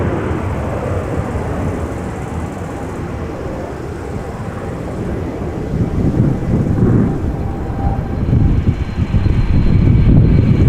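A 14-year-old KLM airliner passes at Amsterdam Schiphol Airport on a flight to Stavanger, a broad, loud engine roar that rumbles steadily and swells louder toward the end, with no voices.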